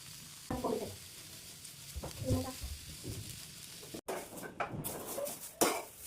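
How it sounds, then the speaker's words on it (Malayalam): Food fries in a pan with a soft continuous sizzle, interrupted by scrapes and stirring knocks and a sharper clatter of cookware near the end, close and fairly quiet. "ഇങ്ങനെ വറുത്ത് പിടിക്കാം"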